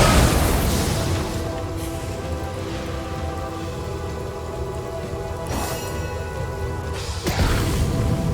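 Rain of Rock spell effect in Divinity Original Sin Enhanced Edition, a dense, steady downpour of pattering impacts with low rumble underneath, punctuated by a couple of sharp crashing hits near the end.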